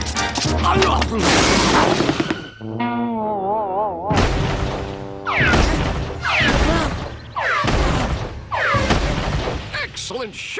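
Cartoon gunfire, loud booming blasts and crashes in bursts close up, broken by a wavering whistling or musical passage, with a voice speaking between the shots.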